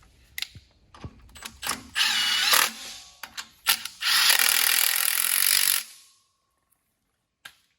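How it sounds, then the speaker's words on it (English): Two mounting bolts being tightened to secure a new belt tensioner assembly to an LS4 engine block: clicking ratchet strokes followed by sustained loud whirs of a power driver, close by, then silence. "you put 2 bolts in and you secure the new tensioner assembly to the block"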